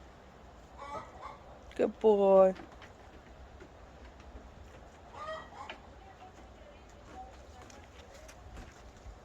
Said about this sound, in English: that's not my chickens, that's next door's chickens